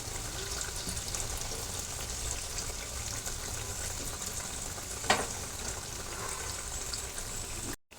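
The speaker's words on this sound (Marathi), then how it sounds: "चला तर आता आपण वड्या तळून घेऊ." Coriander vadi fritters frying in hot oil over medium heat, a steady dense sizzle running throughout with one brief louder crackle near the middle, no voices.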